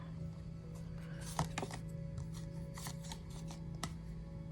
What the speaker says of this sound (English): Let's go ahead and shuffle.